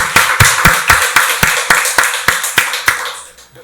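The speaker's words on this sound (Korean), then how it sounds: "박수로 하나님께 영광 돌리겠습니다" A church congregation at a Sunday worship service claps together in a steady, even rhythm, about a dozen sharp claps fading toward the end.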